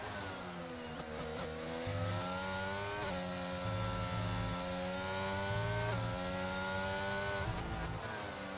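F1 race car engine in an F1 video game at the Belgium round, a loud high-pitched whine rising through the revs with quick dips on downshifts, continuous and close.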